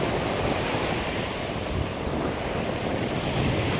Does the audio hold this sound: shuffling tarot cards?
no